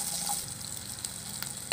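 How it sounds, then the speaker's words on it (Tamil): Shallots sautéing over high flame in a pan for vendakkai avial, a close steady sizzle with light stirring scrapes and a sharper clink near the end. "ஃப்ளேம் ஜாஸ்தியாக வச்சுட்டு இதை வதக்கிக்கலாம்."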